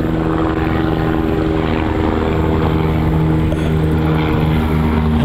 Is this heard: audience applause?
no